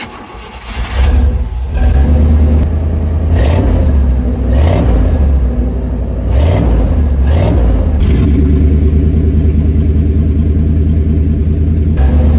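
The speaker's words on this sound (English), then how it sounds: "Let's see how it sounds with this new-ish exhaust on it." A 1988 Chevy C1500 pickup truck with a new exhaust runs loud and close, its engine rumbling and rising in several repeated revs before settling into a steady throaty idle, with no talking.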